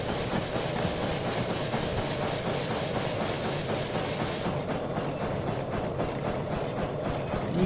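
A steam locomotive strains to haul a heavy, overweight train in the railway game Derail Valley, giving a steady, dense chugging rumble with rhythmic rail clatter that runs unbroken and fairly loud throughout.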